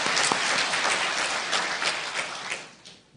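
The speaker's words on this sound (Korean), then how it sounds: "하나님께 영광의 박수 드리겠습니다." A church congregation claps in praise to God during a sermon, close dense applause that holds steady and then tapers off toward the end.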